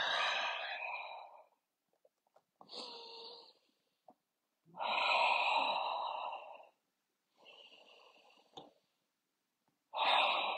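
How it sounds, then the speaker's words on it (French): Deep breathing during a yoga session, with long airy exhales through the mouth. Several separate breaths come in a slow, steady rhythm with pauses between them, each close and fairly loud, and there is no talk. "Expirez par la bouche pour relâcher"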